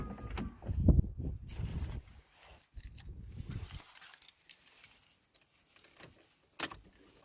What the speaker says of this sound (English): we're going to turn the ignition on and we're going to check the bulb whether it's working fine